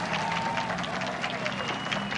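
Crowd clapping and applauding at a rally in New York's Central Park, a dense steady patter of many hands with voices carrying over it, continuing throughout.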